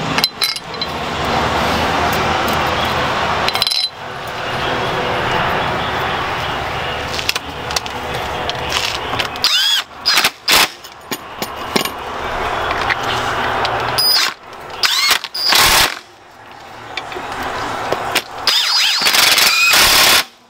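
Tools at work on a Corvette during a wheel bearing and steering knuckle install, with loud, close bursts of impact wrench hammering mixed with metallic clinks and handling noise, running almost continuously with short breaks.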